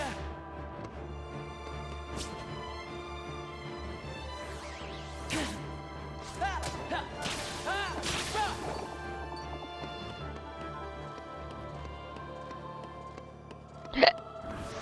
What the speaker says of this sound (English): Guess it's my turn on the hiccup train.